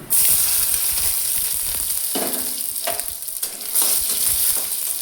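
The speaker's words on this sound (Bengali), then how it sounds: "রসুনটা একটু ভাজা ভাজা হোক।" Garlic cloves and a dried red chilli broken in two fry in hot oil, sizzling steadily and loudly, with a few brief stirring scrapes along the way.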